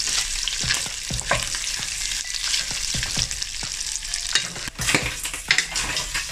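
Pieces of pork sizzle and crackle steadily in a pan over medium heat, some nearly burnt, with repeated sharp scrapes and clacks from a utensil stirring the meat, close and loud without any talking.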